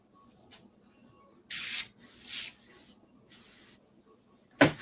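Several short hissing bursts of spray from a can, close by, with brief pauses between them and one final quick spurt.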